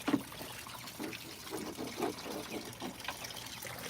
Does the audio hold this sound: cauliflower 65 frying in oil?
no